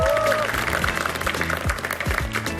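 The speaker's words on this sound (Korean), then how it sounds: "박수로 맞아주십시오" Studio audience applauds on a Korean TV health variety show as a guest is welcomed onstage, steady close clapping filling the room with a brief voice at the start.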